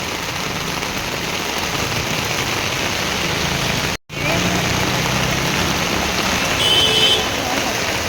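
Heavy rain in Bangalore pours steadily with a constant hiss, briefly cutting out for a moment midway before resuming just as loud.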